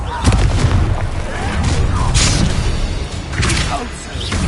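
A Confringo spell from Hogwarts Legacy detonates in a series of heavy booms and thuds with whooshing bursts, loud and close, while voices talk over the blasts.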